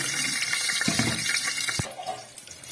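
Chana dal being rinsed under running water, with a steady close gush and splash that thins out toward the end.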